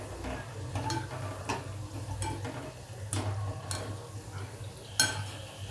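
Moong dal pakodas deep-fry in oil over a low flame, a soft continuous bubbling sizzle broken by regular light clinks and scrapes of a spoon stirring in the pan.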